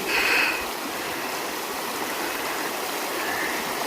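A river along the Foothills Trail near Burrells Ford flows in a steady broadband rush, close and continuous, with a brief brighter splash near the start and no voices.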